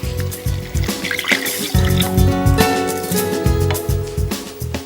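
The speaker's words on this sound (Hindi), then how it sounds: "अब इसमें हम डालेंगे जो स्टॉक हमने बनाया था।" Homemade stock poured into a pan of sautéing food, a continuous liquid trickle and splash over steady cooking noise, close and fairly loud with no talk.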